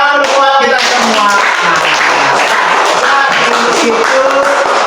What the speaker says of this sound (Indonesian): Tepuk tangan buat kita semua.